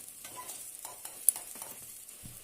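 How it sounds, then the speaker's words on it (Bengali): Onion, garlic, ginger and green chili fry in a pan, a faint soft sizzle with quiet scraping stirs and a small clink, close and without talk. "পেঁয়াজ রসুন আদা কাঁচা লঙ্কা সুন্দর ফ্রাই হয়ে গেছে"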